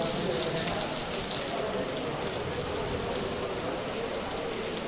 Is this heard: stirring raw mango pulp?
no